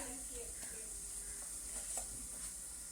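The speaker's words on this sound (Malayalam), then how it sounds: "വെള്ളം നന്നായി തിളച്ചിട്ടുണ്ട്" Water boils in an idli steamer pot, a faint, steady bubbling hiss that carries on evenly and stays quiet throughout.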